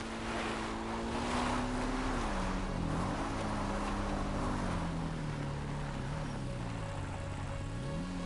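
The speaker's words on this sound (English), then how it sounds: "Attack boats in the water." Steady motorboat engines of enemy attack boats in the video game GTA Online's Cayo Perico Heist drone over rushing water, with a low motor hum rising and falling in pitch as the boats move about.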